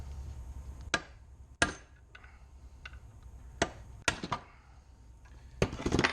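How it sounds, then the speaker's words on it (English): Sharp metallic hammer strikes on a chisel punching out rivets on a GMC motorhome control arm, about seven separate hits spaced irregularly, some with quick double taps, loud and close in a quiet space. "hopefully I should be able to punch these rivets right out"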